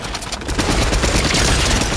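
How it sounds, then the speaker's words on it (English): Dense, continuous gunfire in the battle royale game Fortnite: a rapid, close, loud volley of overlapping shots that rattles on without pause. "Who is literally shooting me?"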